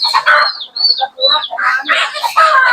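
Several turkeys calling close by, a jumble of clucking and gobbling cries with short high squawks, overlapping and fairly loud.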